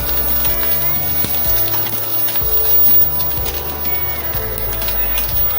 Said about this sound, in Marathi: 1 टेबलस्पून तेल टाकून आपण ओलं खोबरं तळून घेऊया